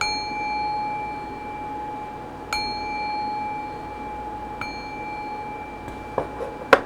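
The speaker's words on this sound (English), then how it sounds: "I got my singing bowl too." A singing bowl rung to close a tarot reading, a long steady ringing tone hanging throughout, with a few light metallic strikes and small clinks near the end.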